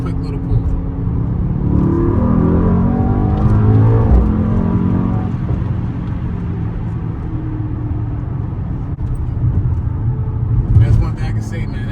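A 2020 Mercedes-AMG GT 63 S accelerates hard, its loud engine climbing steeply in pitch over the first few seconds, then settling into a dense, steady roar and rumble that continues to the end.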